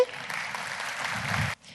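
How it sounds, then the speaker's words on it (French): A conference audience in an amphitheatre gives a short round of applause, a moderate, even patter of many hands that lasts about a second and a half before cutting off abruptly. "Je vous demande de l'applaudir pour l'encourager."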